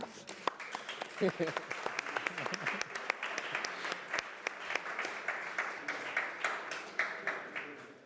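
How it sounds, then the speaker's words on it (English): Applause from an audience at the opening of a surgery conference, a scattered, moderately loud round of individual claps with some voices underneath. "And I think we should all give a warm applause for that."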